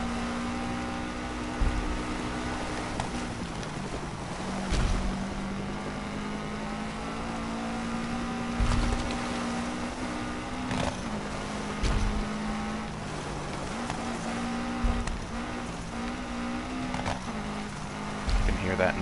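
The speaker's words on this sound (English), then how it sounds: "You can hear that nice Subaru. I love the way Subaru engines sound." A Subaru engine in the Gravel racing video game drones steadily and loudly with a sustained tone and occasional surges and thumps, while someone talks over it.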